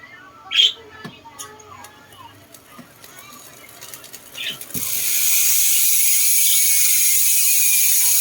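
Scattered faint clicks and rustling give way to a loud, steady rapid ratcheting of a bicycle freewheel spinning, continuous until the end.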